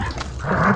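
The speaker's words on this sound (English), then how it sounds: "There's dogs everywhere." Dogs in the video game Ghost of Tsushima give a brief, close growling snarl that swells toward the end, with no voices over it.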